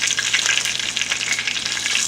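A turkey burger topped with cheese frying in a pan, a loud, steady, close sizzle with crackling spits running throughout.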